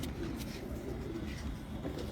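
Pigeon cooing in a low, soft repeated murmur, faint and close, with no talk over it.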